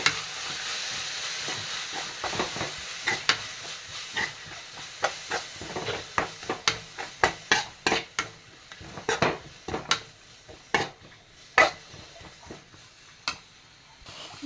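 Crushed ingredients tipped onto sautéed onions in a pan sizzle softly while a spoon stirs, with a string of sharp clinks and scrapes against the pan growing busier over time.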